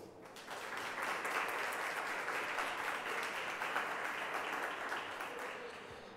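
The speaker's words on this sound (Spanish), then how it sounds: "Un aplauso." An audience at a ceremony honoring diabetes specialists and educators gives sustained applause, a continuous rain of many hands clapping, heard somewhat distant and soft, with no talking.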